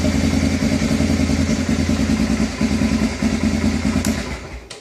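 A 1988 Honda Fourtrax 300 ATV engine runs alone at close range with a steady, throbbing idle, its rhythmic pulsing holding firm for several seconds before easing slightly at the end.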